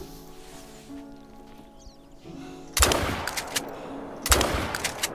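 Two sharp shotgun-like blasts ring out in a bird hunting video game on an upland tundra reserve, following a quiet ambient stretch with faint tonal wildlife calls, each shot loud with a short decaying tail.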